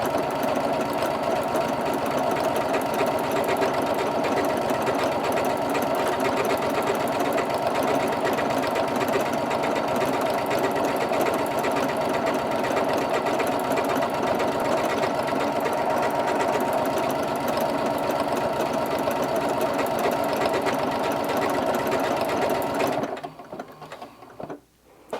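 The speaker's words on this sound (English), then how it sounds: "it's just finishing up this sewing machine right now" A sewing machine sews decorative stitches continuously at close range with a fast, even mechanical rattle, then slows and stops in the final seconds.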